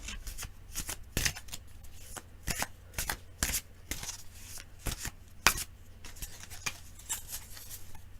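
Tarot cards being shuffled at close range, a quiet run of riffling flutters and soft slaps in irregular bursts over several seconds.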